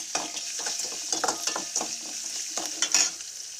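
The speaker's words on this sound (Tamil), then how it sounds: "எண்ணெய் கொஞ்சோனையும் கடுகு, உளுந்தம்பருப்பு, சின்ன வெங்காயம், மிளகா, கருவேப்பிலை போட்டுறோம்" Mustard seeds, urad dal, shallots, chillies and curry leaves sautéing in oil, with a steady sizzle broken by clustered pops, crackles and scraping stirs close by.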